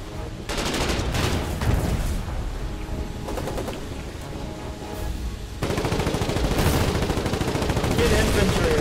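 Gunfire in the war game Foxhole during a battle at Moon's Copse, a steady dense rattle of shots and explosions throughout, growing louder toward the end.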